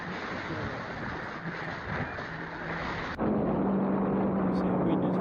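An FMS PA-18 model airplane comes in to land along a gully in choppy wind, its steady propeller drone loud and continuous under heavy wind buffeting, the tone shifting abruptly partway through as it passes close.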